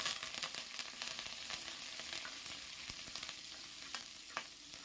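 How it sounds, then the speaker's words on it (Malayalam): Chopped shallots and curry leaves fry in coconut oil for a fish curry, giving a dense, continuous close sizzle with small crackling pops and no talking. "ഒരു 3-4 ചുമന്നുള്ളി അരിഞ്ഞത് കരിയാപ്പിലയും ഇട്ടൊന്ന് നമുക്ക് മൂപ്പിക്കാം"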